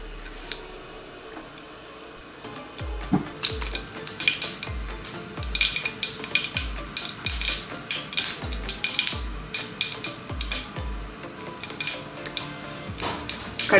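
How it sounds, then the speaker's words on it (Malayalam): Mustard seeds sputter and pop in hot coconut oil while tempering for a Kuttanadan fish curry, giving a close run of sharp, irregular crackles that thicken after a brief quiet start, with no talking. "ഇപ്പം എണ്ണ ചൂടായിട്ടുണ്ട്. ഇതിലേക്ക് ഞാൻ ഒരല്പം കൂടി കടുക് ഇട്ട് കൊടുക്കുകയാണ്."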